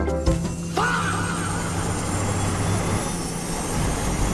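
A toy LEGO plane's flight is voiced by a steady, loud aircraft engine drone that starts with a brief rising whine and holds a continuous roar throughout.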